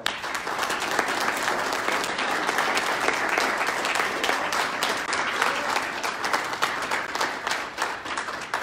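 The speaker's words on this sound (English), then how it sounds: "So let's give these awardees a round of applause." An audience at an Army JROTC military awards ceremony gives sustained, even applause for the awardees, many hands clapping steadily throughout with no talk over it.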